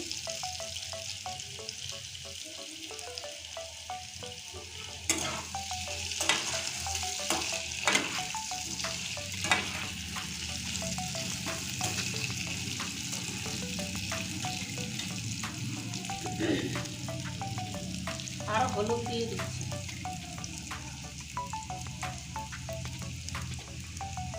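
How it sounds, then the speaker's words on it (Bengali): Potatoes fry in a pan with a continuous close sizzle while a utensil stirs and scrapes them, with irregular clacks and knocks over the steady crackle throughout. "লাল করে ভেজে নিয়েছি এখন আলুতে আমি দিয়ে দেব পরিমাণ মতো লবণ দিয়ে দিচ্ছি"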